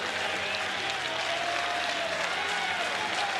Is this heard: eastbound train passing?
no